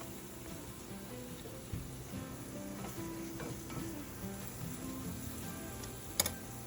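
Gigantic eggs from backyard chickens frying in a pan, a soft continuous sizzle and crackle with faint ticking pops, one sharper click near the end, no talking.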